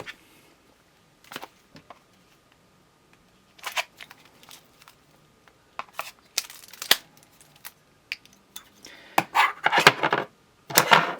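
A box holding a V6 EDC coin is opened by hand, with scattered crinkles, taps, snaps and rustling packaging that grow busier and louder toward the end, close up with no talk.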